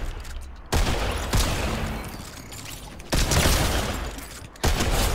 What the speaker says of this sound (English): Shoot you when you're on your way out.